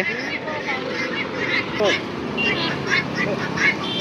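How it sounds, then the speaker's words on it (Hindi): Harsh, repeated guinea fowl calls ring out in short bursts at a bird sale on Sambalpur Hirakud Road, with people talking nearby throughout. "ये है चाइनी मुर्गी चाइनीज कुकड़ा गिन्नी कुकड़ा"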